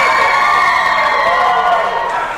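A wrestling crowd screams and cheers loudly, a dense sustained roar of many voices with high-pitched shrieks rising and falling together.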